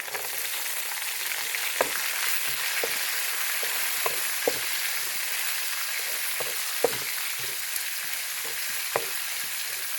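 Onion and chilli frying in a pan, a steady bright sizzle running throughout with occasional soft clicks and stirring taps, no voices.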